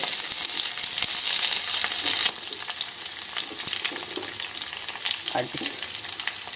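Sliced onions and green chillies fry in hot oil with a loud, continuous crackling sizzle that eases slightly partway through, while a utensil scrapes and stirs now and then, close up and with no voices.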